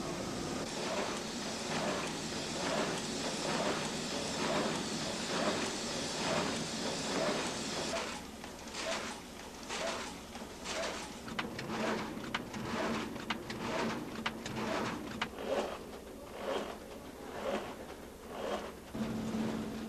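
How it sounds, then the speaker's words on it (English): Rhythmic mechanical thumping and clattering from a carton die-cutting machine cutting and creasing printed paperboard boxes, a steady industrial din that turns into sharper repeated strokes. "It's a die that will cut and crease the box."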